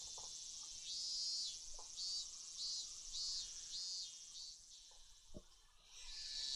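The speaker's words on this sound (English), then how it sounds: "Outside, it was still early enough for the cicadas to be crying." Cicadas shrill in a Higurashi no Naku Koro ni scene, a bright buzzing drone that pulses in about five even bursts and then swells again, with faint soft knocks beneath.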